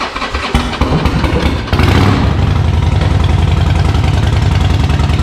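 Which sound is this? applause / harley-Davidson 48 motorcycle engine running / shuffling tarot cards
harley-Davidson 48 motorcycle engine running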